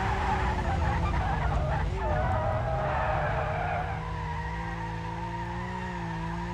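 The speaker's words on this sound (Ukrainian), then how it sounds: "Трошки дрифту на багі." Tires screech in a long, sustained squeal as a buggy drifts and skids down a steep slope in BeamNG.drive, with a steady engine drone underneath and the loudest stretch at the start.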